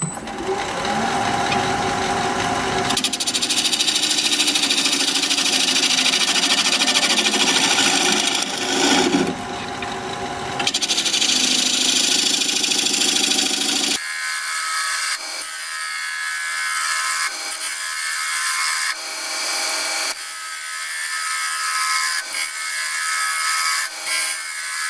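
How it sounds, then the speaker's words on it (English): A wooden bowl spins on a lathe at 800 RPM while a 5/8 inch bowl gouge cuts it, producing a loud continuous rasping hiss that shifts into a thinner, higher scraping with brief pauses between passes. "We're going to be turning at 800 RPM, 5/8 inch bowl gouge"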